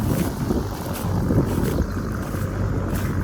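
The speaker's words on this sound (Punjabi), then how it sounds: "ਅੱਜ ਮੌਸਮ ਵੀ ਠੰਡਾ ਹੋਇਆ ਵਾ ਹਵਾ ਚੱਲਦੀ ਠੰਡੀ ਠੰਡੀ" Steady cool wind rushing and buffeting against the microphone on a farm, a continuous low roar with no speech, constant in loudness throughout.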